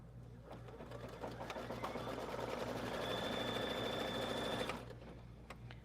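An embroidery machine stitches fabric in the hoop with a rapid, even mechanical whirr and rhythmic needle tapping, steady for several seconds before stopping abruptly.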